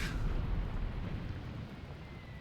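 Artillery shelling rolls in a World War II tank battle in Graviteam Tactics: a deep, heavy boom that rumbles and slowly fades into distant thunder-like echoes.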